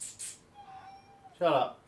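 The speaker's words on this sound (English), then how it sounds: "That is a cat." A male pet cat gives a short meow near the end, close and clear, after a person speaks briefly at the start.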